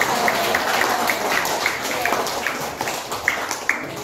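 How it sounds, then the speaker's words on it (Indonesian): Applause from students in a classroom for a presenting group, a steady spread of small claps with a few sharper taps, moderately loud and continuous, with faint voices mixed underneath. "beri tepuk tangan dulu untuk kawannya supaya lebih semangat"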